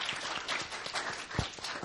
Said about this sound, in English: I want to just really give a round of applause to our presenters